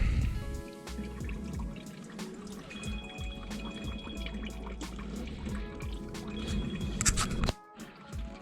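Water drains from a heating pipe into a tub, trickling and dripping softly and close by with irregular splashes, then cutting off briefly near the end.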